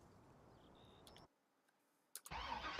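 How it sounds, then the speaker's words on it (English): A tractor engine in Farming Simulator 19 cranks with a few ticks after a short hush, then catches and runs with a loud, steady rumble. "Man, I like the sound of that engine."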